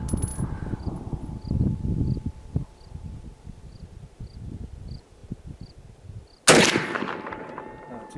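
A Russian rifle fires once at an outdoor target range, 20 yards out, a single loud sharp crack with a fading ring after several seconds of quiet rustling and faint insect chirps.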